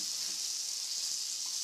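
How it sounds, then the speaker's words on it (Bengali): Fish sizzles in hot oil in a pan, pieces lifted from a curry gravy and fried for a picnic lunch, producing a steady, even hiss that carries on without a break at moderate level. "মাছ ভাজছে মানে হচ্ছে ওই তোমার ঝোলের থেকে মাছগুলো তুলে নিয়ে ভাজছে"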